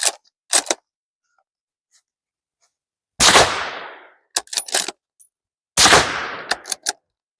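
Howa MVP rifle fired rapidly with supersonic .308 or 300 Blackout rounds: loud, sharp cracks at close range, most with long ringing tails, followed by metallic clacks of the action, with no one talking.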